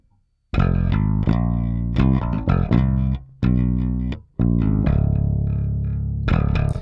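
A Marcus Miller bass guitar played with the fingers through a clean amp-model tone, using old strings, plays a loud melodic line of ringing notes separated by short pauses, with no voices.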